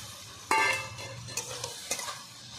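Peeled white eggplant and potato pieces are stirred in a pan, giving a soft sizzle broken by a few sharp spatula scrapes and clinks against the pan, close and fairly quiet.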